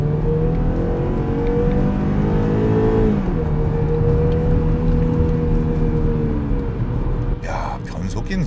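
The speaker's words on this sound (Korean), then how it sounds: "시내 주행에서 급가속을 했을 때는 엔진 소음이네요" A loud, continuous engine roar from a BMW X4 20i under hard acceleration in city driving climbs steadily in pitch, dipping briefly as a gear shifts before pulling hard again.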